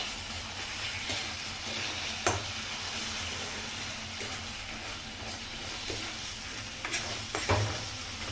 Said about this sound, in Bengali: পেঁয়াজ দিয়ে একটু ভাজা ভাজা করি